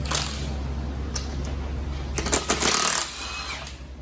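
Power tool or impact wrench removing capped lug nuts from a Dodge Grand Caravan wheel, a steady low mechanical whirr with a louder burst of rattling hammering near the end, close and fairly loud.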